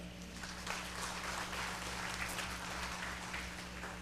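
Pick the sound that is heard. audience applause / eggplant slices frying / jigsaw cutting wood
audience applause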